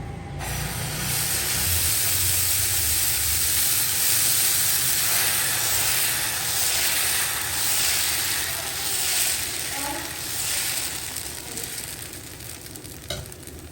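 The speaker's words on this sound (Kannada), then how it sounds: "ಈಗ ಇಲ್ಲಿ ದೋಸೆ ಹೆಂಚು ಕೂಡ ಕಾದಿದೆ ಅದಕ್ಕೆ ಎಣ್ಣೆ ಹಚ್ಕೊಂಡಿದ್ದೀನಿ ದೋಸೆ ಹಾಕ್ಕೊಳ್ತೀನಿ" Dosa batter spread onto a hot, oiled dosa griddle sizzles loudly and steadily, a close, hissing fry that fades slightly near the end, with no voices.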